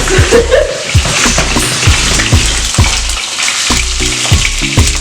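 Red snapper fillets fry skin side down in hot oil in a pan, with loud close sizzling and crackling spatter, punctuated by sharp thuds and clatter from the pan.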